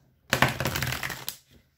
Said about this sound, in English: One more shuffle here, guys.